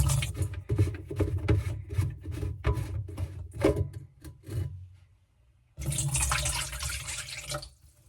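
Water splashes and gurgles in uneven bursts as it is dumped out of a drain trap into a pan, then a brief pause followed by another rushing pour.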